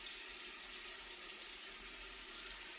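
Water runs steadily from a sink tap as a cotton washcloth is wetted to wash oil off a face, a constant close hiss with no talking.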